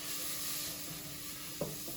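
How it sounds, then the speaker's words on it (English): Curry powder is stirred into food cooking in a pan, giving a steady close sizzle for two seconds with one brief scrape of the spoon near the end. "And you just stir that in."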